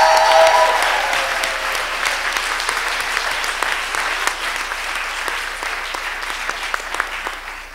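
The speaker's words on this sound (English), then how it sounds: "one more round of applause for all of the activists." Sustained audience applause for activists at a Women Rising Up event at the NYU Grad Center, a broad crowd of clapping hands that starts strong and slowly tapers while continuing throughout.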